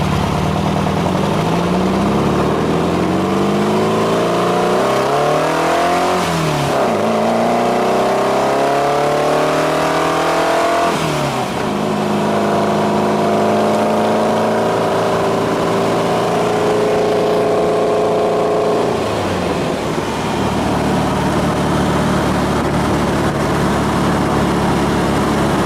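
A Volkswagen engine with carburetors revs up and settles repeatedly through a raspy individual exhaust, pitch climbing and falling in several pulls before dropping back to a rough idle.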